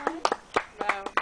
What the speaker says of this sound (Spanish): Un aplauso para Donisa